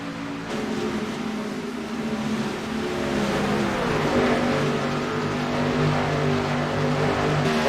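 Race cars at speed during a broadcast race at Kentucky, engines droning and rising steadily in pitch as one car runs closely between others, a loud continuous roar throughout with no talk.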